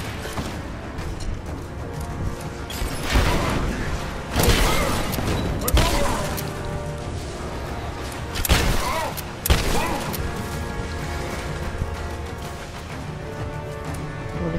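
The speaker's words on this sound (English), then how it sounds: "I'm getting my shotgun out." Shotgun blasts in Rise of the Tomb Raider, several heavy booming shots spaced a second or more apart over a dense, continuous game soundscape.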